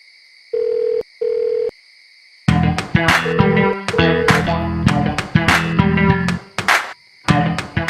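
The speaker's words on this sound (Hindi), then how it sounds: "रानी फोन ही नहीं उठा रही है" A phone call rings unanswered, two clean electronic ring tones sounding alone before a busy stretch of layered tones and chatter-like sound takes over, with a few brief gaps near the end.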